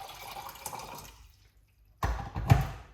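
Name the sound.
pouring red apple ginger lemon juice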